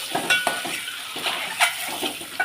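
Something frying in oil in a pan for a village-style egg curry, a soft close sizzle with several quick stirring scrapes and clinks.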